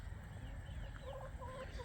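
Chickens, young birds nearly grown to the size of the white hens, cluck softly at a distance over a steady background hiss, with a few faint calls near the end.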